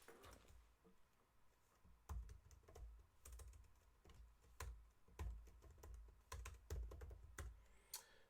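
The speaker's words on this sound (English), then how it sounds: "This new keyboard is really bothering me." Typing on a new computer keyboard: irregular clusters of crisp key clacks, close and fairly quiet, in a still room with no talking.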